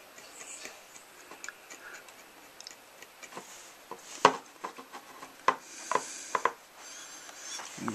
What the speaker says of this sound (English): I'll start to do some of that back scratching or hash mark with the back side of my engraving knife